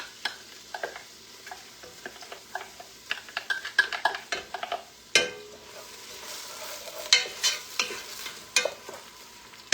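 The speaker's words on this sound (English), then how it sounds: "Gonna get those sauteed. That way nobody notices the onions." Onions sautéing in a pan, a low sizzle beneath frequent sharp scrapes and clacks of a spoon stirring, with a louder knock midway, close by and without speech.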